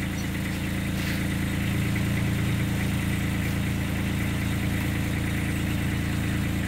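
The engine of a 2012 Ditch Witch JT5 directional drill runs at a steady idle, a constant close rumble with a low vibrating hum and no voices.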